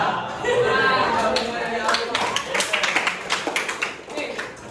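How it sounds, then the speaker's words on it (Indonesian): Students in a classroom clap with irregular rapid taps that grow more distinct toward the end, mixed with voices talking. "tepuk tangan buat kalian"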